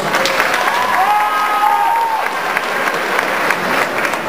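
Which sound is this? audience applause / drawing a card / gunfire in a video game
audience applause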